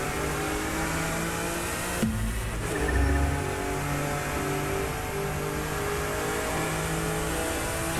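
Alfa Romeo engine revving in The Crew 2 racing game, a steady mid-pitched drone with a brief dip and low surge around the middle before settling back into a sustained hum.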